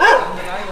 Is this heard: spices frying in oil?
no